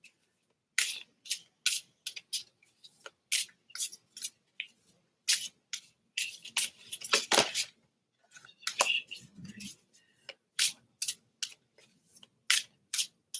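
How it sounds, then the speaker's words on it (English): Smooth tarot cards are shuffled and riffled close to the microphone, giving a run of sharp, crisp clicks and brief riffling bursts in an irregular rhythm with quiet gaps between them. "The cards are nice and smooth to shuffle too."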